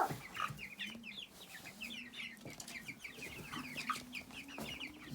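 Several chickens cluck and chirp continuously at a distance, soft and busy, with a faint low hum underneath.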